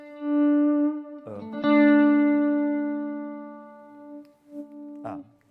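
An electric guitar runs through a high-gain amp with the gain turned down, giving a few sustained single notes and chords with soft attacks that ring out and decay, plus a short pick scrape near the end, alone and moderately loud.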